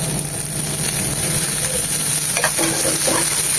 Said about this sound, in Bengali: গাজরটাকে দু মিনিট ভাজার পর দিয়ে দেবো মটরশুটিটা